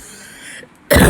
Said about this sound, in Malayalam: ഇന്ന് യാത്ര ചെയ്തിട്ട് ചുമയൊക്കെ വന്നു.